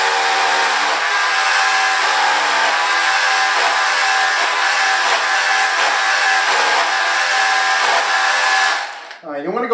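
A power drill bores holes for Tapcon masonry screws while a greenhouse trellis wall is built, giving a loud, steady high-pitched whine that holds for several seconds before cutting off abruptly.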